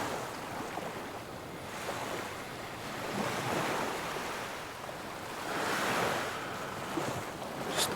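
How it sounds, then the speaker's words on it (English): Ocean waves roll onto a beach in a steady, unbroken wash of surf that swells and recedes, with wind noise over it and no voices. "Just watching those waves rhythmically roll in and out,"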